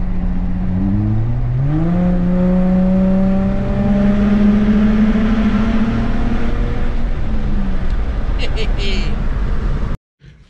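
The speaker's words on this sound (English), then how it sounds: "are you really a car guy if you don't floor it through a tunnel?" A VW MK5 Golf with a twincharger TSI engine accelerates hard through a tunnel, a loud rising engine note climbing through the gears with a shift partway, then cutting off abruptly near the end.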